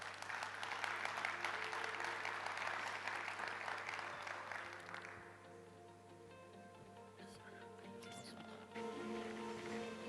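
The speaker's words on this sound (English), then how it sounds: "Please give him a round of applause." Applause from an audience at the Africa Gulf Cooperation Dialogue opening ceremony, a dense, faint wash of clapping that fades after about five seconds into quieter room sound with a low hum.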